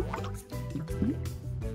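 Water sloshing and dripping in a small bowl as a paper print is laid into it face up, soft wet squishes and a few drips, close and quiet with no talk.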